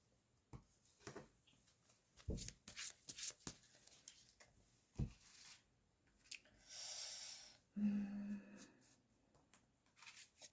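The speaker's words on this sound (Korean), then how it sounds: "추가 카드를 한번 뽑아볼게요" Tarot cards are shuffled and drawn, giving quiet, irregular papery flicks, snaps and slides in short bursts, with a longer soft rustle near the end, alone in a hushed room.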